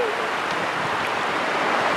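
Steady sea surf at Playa de Las Arenas beach in Valencia, a continuous loud wash of breaking waves with no pauses, heard from right in the water.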